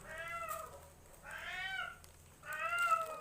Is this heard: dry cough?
no